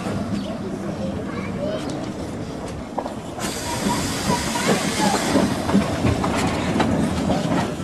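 A Polish Px38 narrow-gauge steam locomotive running on a short straight line near Frankfurt, its train rumbling and clattering steadily over the rails with a rising hiss partway through, continuous and fairly close.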